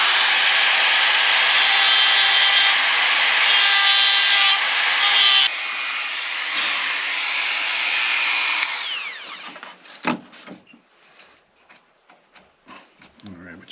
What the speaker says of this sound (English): So I'm going to use my Dremel with a carving bit.